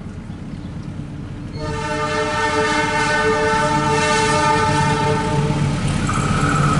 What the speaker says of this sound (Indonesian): Dari arah barat di jalur 2 sedang melesat kereta Papandayan